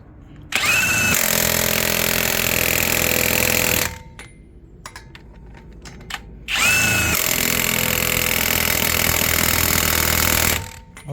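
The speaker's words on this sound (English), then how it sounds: "James put those back on with his RIDGID" A RIDGID 1/2-inch impact wrench running lug nuts back down on a wheel: two loud, sustained hammering bursts of about three seconds each, separated by a quieter pause with faint clicks.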